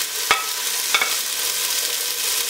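Onion and vegetables with salt sautéing over medium heat in a pan for a traditional Extremaduran tomato soup, a steady soft sizzle broken by a couple of sharp stirring clinks.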